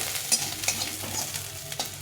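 Chopped ginger and garlic fry in hot white oil for a momo filling, giving a steady close sizzle with a few scraping stirs of a spatula, no voices.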